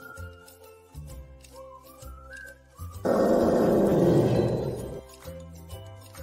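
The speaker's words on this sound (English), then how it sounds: "Elephant." An elephant call in a children's animal-names song: one loud, harsh, roaring blast lasting about two seconds, rising abruptly over a steady backing melody and then fading back into the music.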